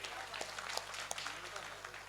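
Mushaira audience in Chhatarpur applauding a poet's recitation, a brief burst of scattered clapping with crowd noise under a faint voice.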